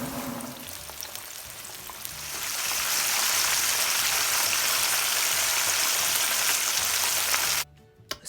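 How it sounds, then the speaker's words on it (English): Chicken thighs deep frying in hot oil, a quiet crackle that swells into a steady, dense sizzle after a couple of seconds and then cuts off abruptly near the end. "But let's fry."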